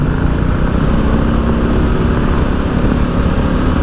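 Loud, continuous engine drone from a 2024 Harley-Davidson Softail Standard with its 107 engine under throttle, a steady close roar with no pauses.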